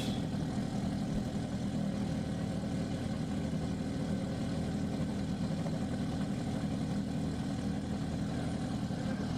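A cold race vehicle engine idles at El Mirage dry lake, a steady, low rumbling drone heard faintly and evenly throughout, with no voices over it.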